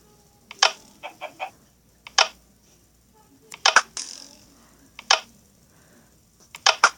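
Sharp mechanical clicks from a button being pressed over and over, coming in irregular single and clustered bursts with quiet gaps between them, close and fairly crisp, with no talking.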